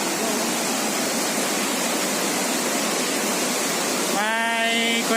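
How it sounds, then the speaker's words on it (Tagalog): Strong river current near Wawa Dam, rushing water roaring loudly and steadily up close, with a voice briefly rising over it at the very end. "Lakas ng agos ng tubig oh."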